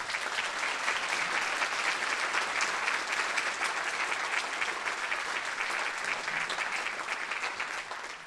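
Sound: audience applause at Christmas concert

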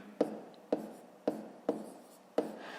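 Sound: writing numbers by hand

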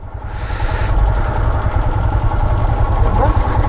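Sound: vehicle engine idling

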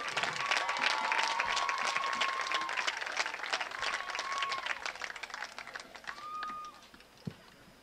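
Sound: applause

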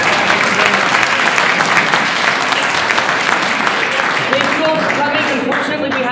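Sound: applause

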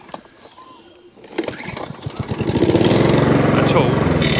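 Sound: Mountfield 474 lawnmower engine running

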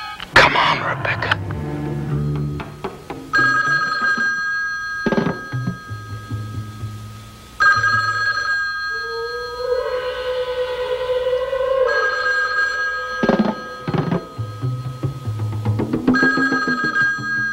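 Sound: telephone bell ringing

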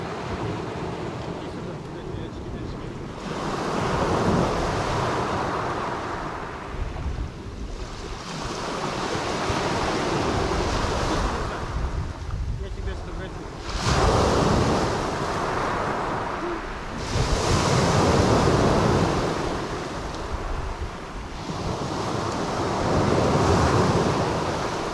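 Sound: sea waves on a winter beach in Beldibi, Turkey

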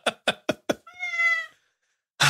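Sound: cat meowing

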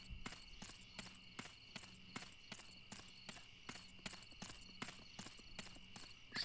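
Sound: horse hooves clip-clopping in video game GUN

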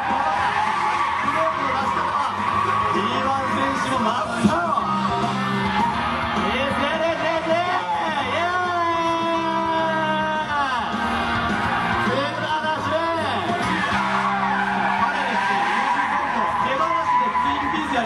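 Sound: Lancer Evolution wagon drifting with tire squeal

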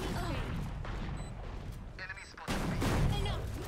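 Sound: shotgun firing in the video game Valorant

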